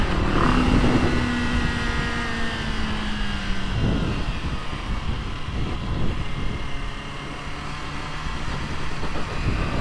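A 2023 Modenas Kawasaki Ninja ZX-25R SE motorcycle runs downhill, its engine a steady close drone with a high-pitched whine that falls away early on, alongside constant wind and road rush.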